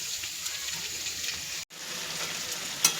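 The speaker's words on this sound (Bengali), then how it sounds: "আলু ভাজাগুলো নিয়ে মাংস বসিয়ে দিয়েছি, মাংস কষানো হচ্ছে।" Meat is being browned in a pan after a batch of fried potatoes, making a steady close sizzle with faint stirring, briefly cut off for an instant midway.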